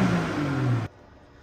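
A deep, throaty exhaust from a 2022 BMW M240i rumbles loudly for under a second, then cuts off abruptly into quiet.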